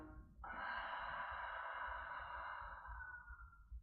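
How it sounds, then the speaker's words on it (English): A single long open-mouthed exhale during a breathing exercise, a steady breathy rush that holds for about three seconds and then fades out. It is close and soft, with no talking. "Open mouth exhale"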